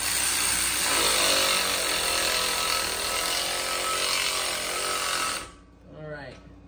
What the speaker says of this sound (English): I think my battery is dying on my gun, guys, my side ratchet